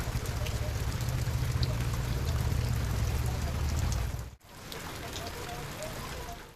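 Heavy monsoon rain pours steadily onto outdoor surfaces in a dense, constant hiss, briefly cut off by a sharp break before resuming at nearly the same strength.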